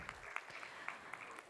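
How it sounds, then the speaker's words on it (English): Applause from a seated audience at a business MoU signing ceremony, a brief, fairly faint patter of many hands clapping with no voices over it. "Huge round of applause for Sanjeev Gupta sir."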